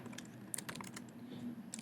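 Rapid keystrokes on a computer keyboard, a quick run of close, crisp clicks with short pauses, heard alone at a fairly low level against a faint room hum.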